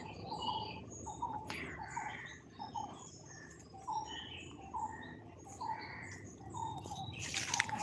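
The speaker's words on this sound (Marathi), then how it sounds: "पक्ष्यांचा आवाज इतका मस्त आहे ना वेगवेगळ्या पक्ष्यांचा आवाज आहे" Various birds sing through a village morning, with chirps and calls repeating steadily against a dense bed of insect or cricket buzzing. The sound is continuous and moderately distant, with no talking.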